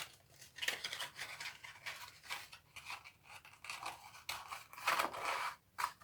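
Scored kraft paper treat box being folded by hand, with faint, close crinkling, creasing and scraping of stiff paper in short irregular bursts.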